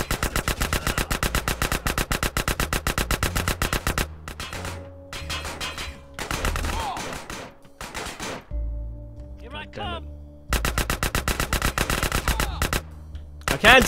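Gunfire in Grand Theft Auto: San Andreas aboard a cargo ship: rapid automatic bursts rattle loudly for several seconds, break into scattered single shots and pauses, then a second long burst erupts at the end. Game sounds fill the gaps between bursts.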